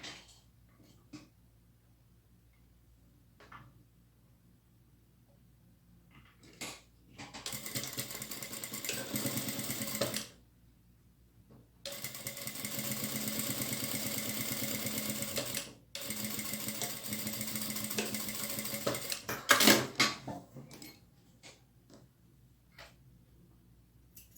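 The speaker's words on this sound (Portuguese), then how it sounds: "com todas as bordas sobrepostas, eu vou fazer a costura de 1 centímetro" A sewing machine stitches a 1 cm seam along overlapping fabric edges, running in three sustained bursts of steady whirring with short pauses between, fairly close and alone without talk.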